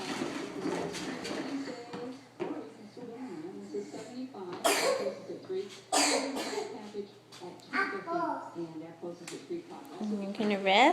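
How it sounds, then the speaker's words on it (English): A girl coughs repeatedly indoors, harsh bursts scattered across the clip among voices and other vocal sounds. "She always bends over to cough now."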